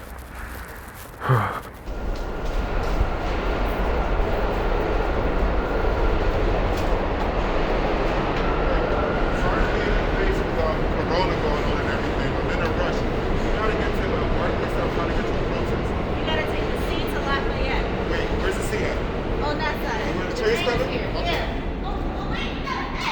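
Steady, loud rumble of a subway A train at Utica Avenue station filling the space for the whole stretch, with a brief sharp clank near the start and voices murmuring underneath.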